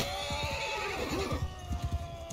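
Horses neighing and whinnying in the Mount & Blade 2: Bannerlord battle, with a drawn-out whinny under steady battle noise, then several short, punchy thuds and hoof-like knocks toward the end.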